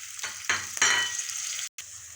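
Tomato paste being stirred with a spoon into pumpkin curry frying in a pan, a steady close sizzle with scraping strokes swelling and easing, then a brief cutoff near the end.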